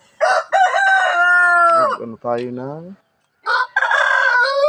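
A rooster crows loudly and close in long, wavering calls among backyard chickens, with a brief pause before another crow begins; a voice speaks briefly between calls.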